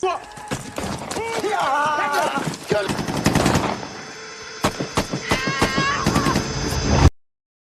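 Bursts of rapid gunfire crackle and pop amid shouting voices and chaotic movement, ending abruptly.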